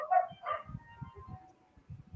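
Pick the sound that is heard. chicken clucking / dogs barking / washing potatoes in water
dogs barking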